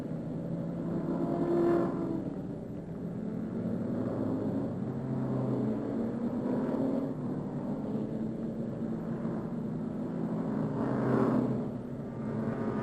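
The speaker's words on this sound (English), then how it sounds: "That's one of the Speed Source cars." A Speed Source race car at the VIR racetrack passes at a distance, a faint engine rumble rising and falling over steady background noise, with a brief louder swell near the start and another near the end.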